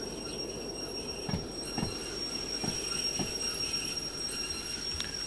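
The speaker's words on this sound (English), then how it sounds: "Just put our loco into drive so that she's ready to go forward." A locomotive running in the train game Derail Valley, a steady close rumble with periodic rhythmic clanks from the wheels passing over track joints, plus a faint high tonal whine.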